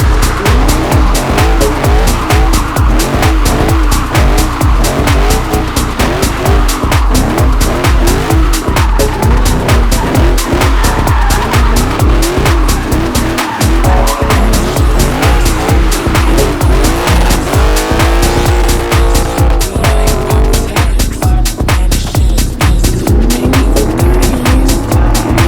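A car drives hard with loud, continuous intake and exhaust roar, rapid engine pulses and shifting revs, heard up close throughout.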